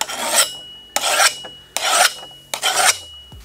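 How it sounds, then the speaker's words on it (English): Kitchen knives being sharpened, with a burr forming after only a couple of passes: four long, even rasping strokes, each about half a second, spaced evenly and heard up close with no voices. "let's check out how some of these knives did after a quick sharpen"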